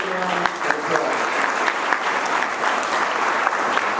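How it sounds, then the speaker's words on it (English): A crowd at a New Orleans jobs and opportunity expo claps loudly and continuously, dense applause with a few sharper individual claps standing out over four seconds. "Give them a big round of applause"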